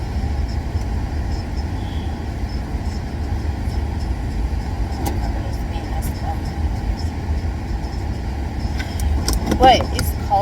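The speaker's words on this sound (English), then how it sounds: "I had cranked my car up earlier so we can get this ice off." A car's engine idles on a cold, icy morning while it warms up, giving a steady low rumble throughout, with faint voices and a few light clinks near the end.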